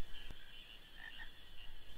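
Frog in the video game Final Fantasy IX croaking twice in quick succession around the middle, faint against a constant high ambient drone, with no talking.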